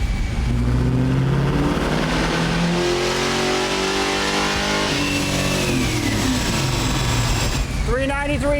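A 1969 Camaro engine revs hard on a dyno, a loud, continuous roaring pull whose pitch climbs steadily through the run before easing off near the end.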